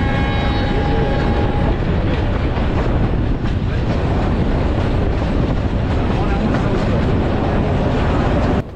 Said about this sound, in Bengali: বাংলাদেশ রেলওয়ে কর্তৃক পরিচালিত একটি মিটার গেজ কমিউটার ট্রেন।